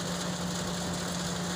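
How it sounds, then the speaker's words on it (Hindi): A tractor-driven peanut cleaning machine runs with a steady mechanical drone and a low engine hum. The sound is continuous and moderately loud, with no talking. "ये मूंगफली साफ़ करने की मशीन है जो आपके सामने दिखाई दे रही है"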